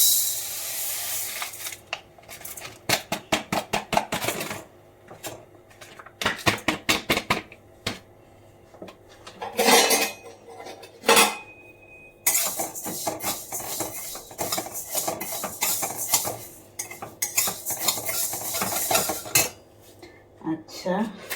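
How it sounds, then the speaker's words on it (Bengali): Flaxseed dry-roasting in a pan, stirred with a utensil: rapid bursts of scraping and rattling clatter come in uneven runs with short pauses, close and fairly loud, with no talk. "ফ্ল্যাক্সিড, সবার প্রথমে নিচ্ছি, এই যে একটু করে জাস্ট রোস্ট করে নেবো"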